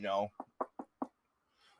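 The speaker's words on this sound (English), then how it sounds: "I'm knocking on wood, even though it's particle board" Four quick knocks of a fist on particle board, evenly spaced and close by, following a brief burst of speech and ending in near silence.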